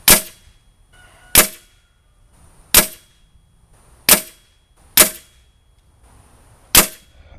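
Beeman Chief Plus air rifle firing lead pellets, six sharp, loud cracks spaced a second or so apart, each with a short ringing tail, and near silence between shots.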